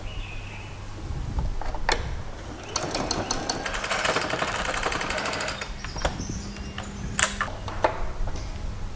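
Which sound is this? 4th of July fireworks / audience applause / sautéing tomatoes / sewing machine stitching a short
sewing machine stitching a short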